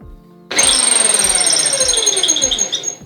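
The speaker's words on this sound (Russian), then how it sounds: "пришло время вооружиться надфилями и напильниками и вперед" A metal ring is worked with needle files and larger files. A loud, harsh, close rasping starts abruptly and continues with a steady rhythm of strokes about every half second.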